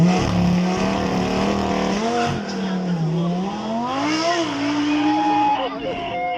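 A 513-horsepower supercar on a demonstration run at the Beaulieu Supercar Weekend spins its rear wheels as its engine revs climb and surge, loud and continuous, with a commentator talking over it.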